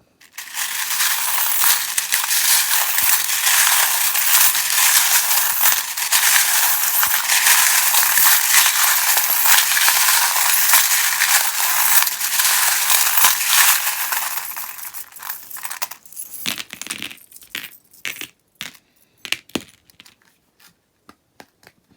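Tarot cards loaded with small metal charms are shuffled in a dense, continuous rustling jangle for about fifteen seconds, close and fairly loud, then settle into a few scattered clicks and clinks.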